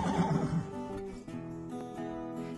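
A horse whinnies loudly and up close, a long wavering neigh that shakes at the start, then settles into a steadier whinny and fades out.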